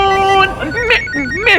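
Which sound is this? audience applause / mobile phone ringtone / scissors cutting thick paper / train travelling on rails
mobile phone ringtone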